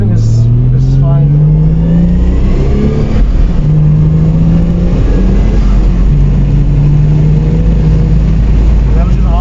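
A Toyota Cressida fitted with a 2JZ engine pulls at half throttle, its engine note rising in steady sweeps through several gear changes, loud and close from inside the car. No one talks.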